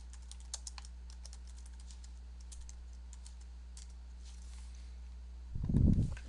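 Code typed on a computer keyboard in quick, light, uneven clicks over a steady electrical hum, close by, ending with a brief low thump.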